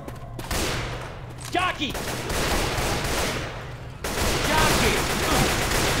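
Rapid gunfire from a zombie shooter video game runs through the whole stretch, with dense overlapping bursts at a steady moderate level. Players talk and shout over the shooting.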